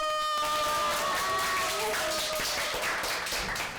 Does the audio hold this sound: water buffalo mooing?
no